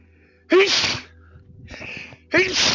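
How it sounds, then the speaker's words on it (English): Two sharp sneezes burst out close to the mic during a Killing Floor 3 gaming session, the second following about two seconds after the first, with a quieter stretch of breathing and faint voice between them. "fuck these sneezes"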